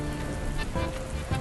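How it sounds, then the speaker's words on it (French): Light rain patters steadily on a surface, a soft continuous hiss with scattered drops, fairly quiet and with no voices. "Une petite pluie ne fait pas de mal."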